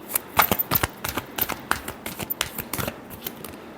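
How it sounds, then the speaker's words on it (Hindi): Tarot cards being shuffled in a quick run of crisp riffles and flicks, close and fairly loud, with no talking over them. "last shuffle"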